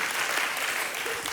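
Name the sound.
church congregation clapping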